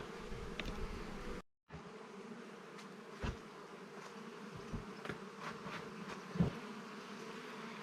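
A steady insect drone of honeybees buzzing close by in an opened hive, with a few soft knocks and clicks breaking through the continuous hum.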